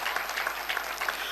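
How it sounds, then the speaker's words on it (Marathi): Audience applause at a public gathering on Scheduled Caste unity: an even wash of many hands clapping at moderate distance, steady and unbroken for just over a second. "त्यांच्यासाठी आपण एकदा सगळ्यांनी टाळ्या वाजवल्या पाहिजे"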